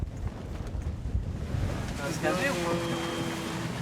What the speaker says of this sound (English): The wind grows stronger, and the waves climb even higher.